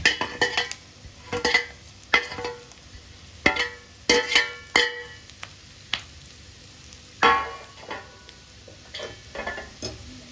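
A spoon scrapes and clatters in a pan as ragi puttu is stirred with sautéed onions and green chillies, producing irregular close knocks and scrapes over a faint sizzle.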